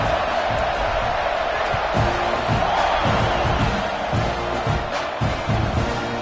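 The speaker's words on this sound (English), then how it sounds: "this crowd is buzzing after that last score" A large stadium crowd at a college football game buzzes loudly after a touchdown, a dense roar of voices with scattered shouts and thumps, continuous throughout.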